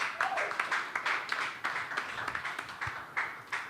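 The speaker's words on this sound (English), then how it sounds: "A round of applause for yourself." A small audience at a company event gives a round of applause, with a rhythmic run of fairly close claps that continues evenly through the moment.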